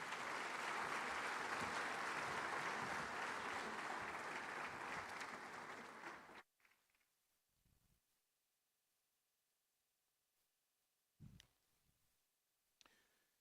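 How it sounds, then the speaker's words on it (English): Audience applause at a conference during annual meetings, a dense, even clapping that lasts about six seconds before stopping abruptly, followed by near silence with a few faint scattered knocks. "Another round of applause, please,"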